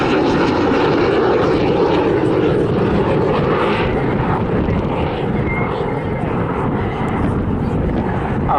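A BAC Strikemaster jet makes a flyby at an airshow. Its engine gives off a loud, sustained roaring rush that fills the whole stretch and fades slightly toward the end.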